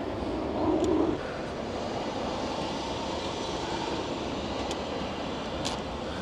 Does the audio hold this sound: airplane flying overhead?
yes